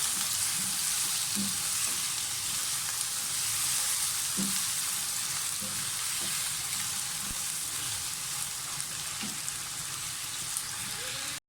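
Potatoes fry in a pan with a steady, hissing sizzle that runs the whole time, broken by occasional soft knocks and scrapes of stirring close by.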